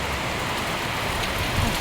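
Heavy rain pours down in Singapore in a dense, steady hiss with no break, loud and close, with no voices.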